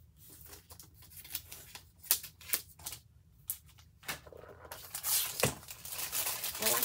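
Plastic wrap being cut off a Happy Planner, with scattered snipping and crinkling rustles, some sharp close clicks, growing denser toward the end; no talking.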